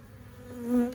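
Honey bees buzzing around an open hive in a bee yard, a brief, close, steady drone that swells near the end.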